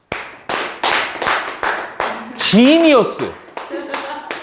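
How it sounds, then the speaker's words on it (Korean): Students in a high school math class clap for a classmate, with several sharp claps close by and voices talking and exclaiming over them. "박수."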